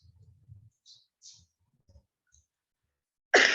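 A computer mouse gives a few soft, isolated clicks in a quiet room, followed by a sudden louder burst at the end.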